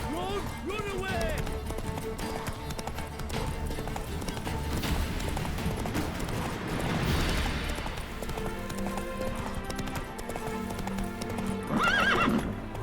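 In The Witcher 3 video game, a horse gallops with a steady, rapid clip-clop of hooves and lets out loud neighs and whinnies, with voices speaking over the action.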